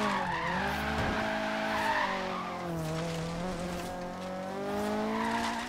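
A turbocharged Mazda Miata drifts in Forza Horizon 3, with continuous loud tire squeal over a wavering engine drone that holds for the whole stretch and shifts pitch as the car slides.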